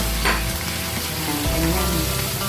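Pork pieces frying in a pan for pork adobo with eggs, a steady close sizzle with a brief louder burst early on as the meat goes in, continuing without talk.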